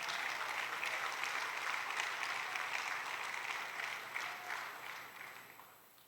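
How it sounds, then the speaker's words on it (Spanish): A church congregation claps during a sermon, a soft, distant-sounding wash of steady applause that lingers evenly before tapering off toward the end. "Dele fuerte el aplauso, hermano."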